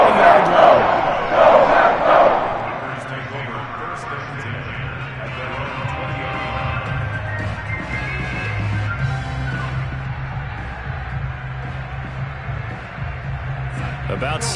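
Stadium crowd in an American football video game with the Green Bay Packers taking possession, a loud roaring cheer up front that settles into a steady crowd murmur beneath continuous play-by-play commentary.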